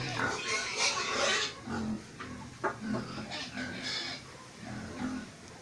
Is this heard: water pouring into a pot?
no